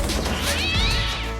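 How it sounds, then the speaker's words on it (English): A small cat meows and yowls in a single drawn-out cry rising and falling close by, backed by a low rumble and a brief scuffling thud. "a small cat suddenly jumped onto Jack."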